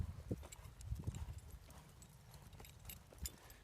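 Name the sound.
horse hooves clip-clopping during barrel racing lesson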